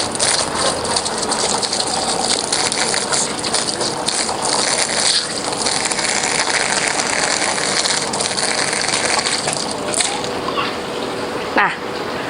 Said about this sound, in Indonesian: akan mencuci tangan menggunakan kran otomatis supaya tidak banyak menyentuh barang